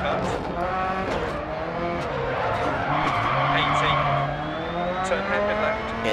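A rally car on a German stage in Dirt Rally, with a loud, continuous engine whose pitch climbs and falls while the tires skid and squeal across the whole stretch.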